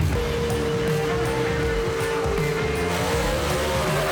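A 1955 Thunderbird and a '55 Chevy gasser run side by side in a drag race at Knoxville Dragway, with a loud, continuous roar of engines at full throttle and a droning exhaust note throughout.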